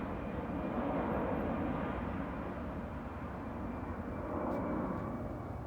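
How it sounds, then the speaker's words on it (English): Airplanes passing overhead near an outdoor motorcycle workshop: a steady, broad engine roar that holds for several seconds, rising and easing slightly as it passes, with no voices. "You can see the planes go by."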